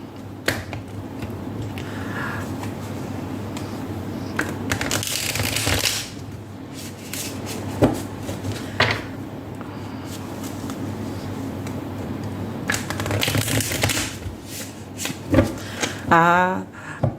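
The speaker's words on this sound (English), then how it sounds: "Let's first shuffle your tarot cards and see what's happening." Tarot cards being shuffled by hand, giving intermittent riffling and snapping bursts of moderate loudness with a steady background hum beneath.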